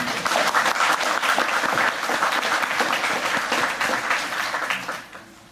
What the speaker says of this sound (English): I think that's worth a round of applause to Scott, Kennett and the team.